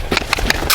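Hooves thud in quick, regular beats as a horse moves around a round pen, close and fairly loud.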